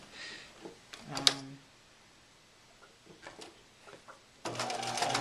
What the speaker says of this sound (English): You're going to start here and line up with the inside edge of the presser foot because you want to stitch very close to the casing.